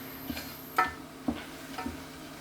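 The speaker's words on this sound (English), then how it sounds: "Get my trusty spoon. Stir this together." Spoon stirring flour into homemade beef-bone gravy in a pan: a few soft, close clinks and scrapes at an uneven rhythm, quiet and without talk.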